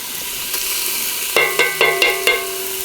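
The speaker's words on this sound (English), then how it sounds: "we're gonna go ahead and take our bacon, and we want to hear that nice sizzle" Bacon strips sizzle in a hot pan as they render for green beans: a loud, steady crackling fry with several brief metallic knocks from a utensil in quick succession midway.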